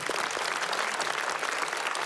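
Dense, steady audience applause at a stand-up comedy club show, many hands clapping together in a continuous loud roar.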